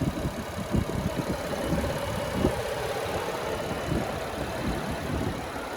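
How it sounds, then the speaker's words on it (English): A 2024 Chevrolet Blazer Premier AWD's 3.6-litre V6 idles steadily up close, a continuous low engine rumble with faint ticking, no talk over it. "And there's that V6 engine."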